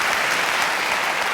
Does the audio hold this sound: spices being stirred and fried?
no